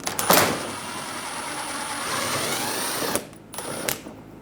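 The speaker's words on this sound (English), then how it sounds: "Using a 10mm socket, remove the bolt on the corner of the bumper." Bumper corner bolt of a 2011-2014 Hyundai Sonata being driven out with a 10mm socket on a power tool, a steady whirring buzz for about three seconds, then short bursts, close and alone.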